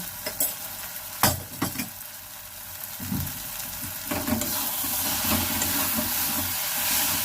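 Onions fried with turmeric, chilli, coriander and cumin powders in a frying pan for a fish egg and fish maw dish, a few knocks and scrapes of stirring followed by a building, steady sizzle, close and without talk.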